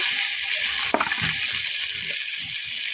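Steady hissing sizzle of green chilies frying in hot oil, with a brief splash or clatter near the start as they drop into the pan.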